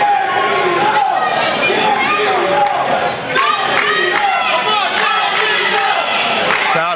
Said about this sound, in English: Crowd coming alive for Mickey and Marshall here.